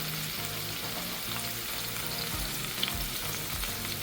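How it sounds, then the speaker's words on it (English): Turkey breast searing in a hot pan over medium-high heat, a loud, dense, steady sizzle with faint rhythmic background tones and occasional clicks, close up and without talking. "give it a nice hard sear"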